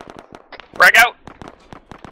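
A frag grenade goes off in ARMA 3, a sharp loud burst in the middle of nearby talk.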